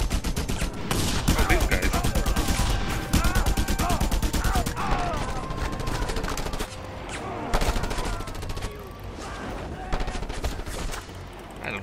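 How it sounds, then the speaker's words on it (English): Rapid bursts of gunfire from enemies shooting in the video game Just Cause 2, dense automatic volleys and single shots crackling almost continuously at close range over a busy game soundscape. "I don't like these guys, they are shooting at me."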